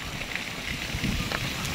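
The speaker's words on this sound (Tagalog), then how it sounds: "Naririnig na yung tunog ng ilog." A river flows steadily beside a riverside spot where a group of senior bikers gathers to cook and grill, heard as a constant broadband rushing wash with no breaks and no talk.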